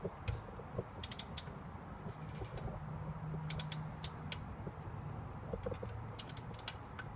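Torque wrench set to a low 14 clicking as it tightens the lower bolt of a front shock on a ZJ Jeep, giving short, faint, sharp clicks in scattered clusters over a quiet garage background.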